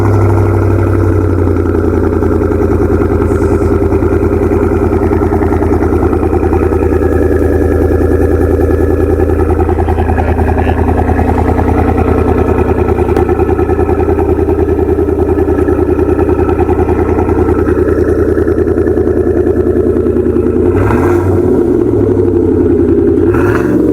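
A 5.3-liter V8 Yukon with a Borla exhaust cold-starts and settles into a steady, loud low rumble at close range, holding a constant idle throughout with some rough clatter near the end and no talking.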